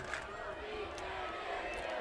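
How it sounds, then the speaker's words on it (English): A high school football crowd at a DeForest vs Edgewood game cheers and shouts in a steady, distant roar that holds for the whole stretch, with faint talk over it. "The crowd really getting into things here."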